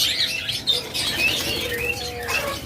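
A crowded breeding colony of caged budgerigars, lovebirds and cockatiels, with wings fluttering and bright chirps scattered over a constant busy chatter, no voices present.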